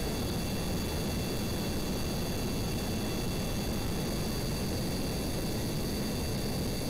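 Spaceplane jet engines at full throttle in the Kerbal Space Program game, heard as a steady, loud broadband roar with a constant high whine that holds unchanged without a break.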